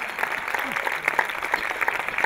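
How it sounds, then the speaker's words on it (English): A comedy festival audience at a stand-up show applauding for the festival director and founder, steady dense clapping throughout. "a round of applause, everyone, for the festival director and founder, Dragos."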